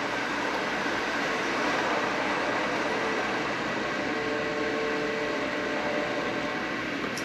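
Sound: model train running on track

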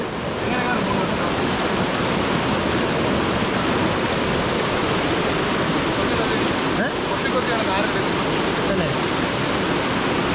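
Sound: strong flowing stream water

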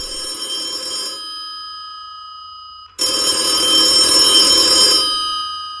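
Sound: telephone ringing in a horror video game

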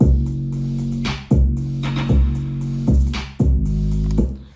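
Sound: rap beat

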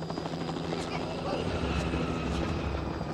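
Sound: helicopter in the video game The Last of Us Part 1

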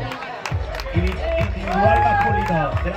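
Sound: applause for race winners

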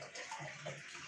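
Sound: water being filled from a tap

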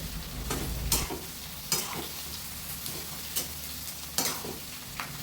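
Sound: onion frying in oil in a wok

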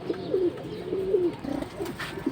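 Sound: silver pigeons cooing

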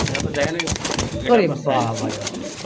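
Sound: Nayra Bombai pigeons cooing

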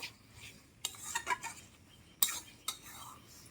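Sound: stirring hog plum pickle with ground spices

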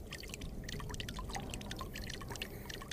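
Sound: water pouring from a water jug in the video game Ghosts of Tabor

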